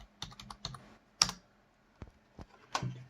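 Sparse keystrokes on a computer keyboard, a handful of separate clicks and taps at an uneven pace, quiet and close in a still room.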